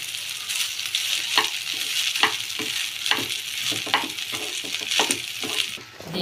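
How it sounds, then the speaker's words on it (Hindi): Lemon rice frying in a pan: a continuous loud sizzle with a rhythmic series of spoon scrapes and taps as it is tossed, fading slightly at the end. "जल्दी फ्राई हो जाता है ये लेमन राइस।"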